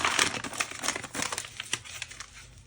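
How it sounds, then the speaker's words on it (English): Oak firewood catching light over a pine cone and paper makes dense, close crackling and snapping that thins out toward the end, with no talk. "That's the wood starting to burn."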